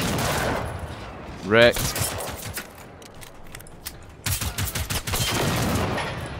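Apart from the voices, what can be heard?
gunfire from enemy robots in video game Generation Zero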